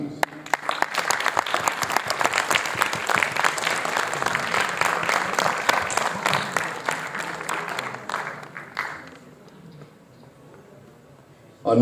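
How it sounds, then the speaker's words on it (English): An audience claps steadily for a drummer taking the stage at a Pakistan and West End cultural event, a dense wash of applause for about eight seconds that then thins and dies away. "Please welcome to the stage our talented drummer who is about to bring the beat to life. A good big round of applause for Emmanuel, please."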